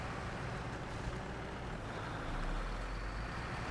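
Paystar truck engine in SnowRunner, a steady low diesel drone with faint mechanical rumble, heard quietly and continuously with no talking.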